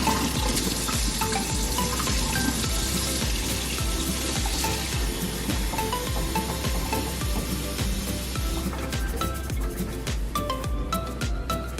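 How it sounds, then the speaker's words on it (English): A kitchen tap runs warm water for bread yeast, pouring as a steady close splashing stream with shifting gurgles as the flow changes against the sink and container. "I'm gonna get some cold water, or some warmish water."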